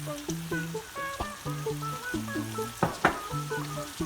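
Rice sautéing with onions in a pan, a soft sizzle broken by scraping and stirring clinks from a utensil, with a couple of sharper knocks near the end; fairly quiet, no talking.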